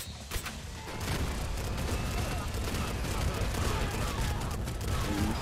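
Coffee cannon weapon firing in the video game Nuclear Throne, a dense, continuous barrage of gunfire-like blasts and mechanical clatter that starts after a brief pause and keeps going loud and steady to the end.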